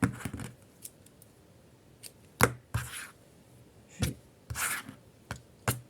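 Scissors snip through thread during a holiday craft project, a handful of short, crisp cuts with quiet pauses between them, close and fairly soft.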